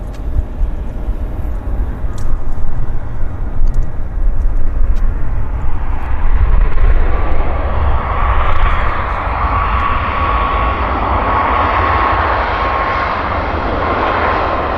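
An airplane with landing lights on lands at Vancouver Airport at sunset, its engine roar rising and swelling to a loud, sustained rumble that fills the scene.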